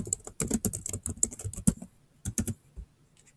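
Quick, irregular clicks of typing on a computer keyboard, heard close and clear in short bursts with brief pauses and no talk.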